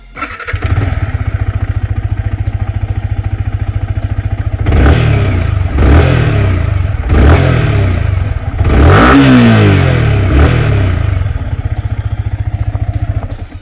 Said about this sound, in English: So let me just start up the bike.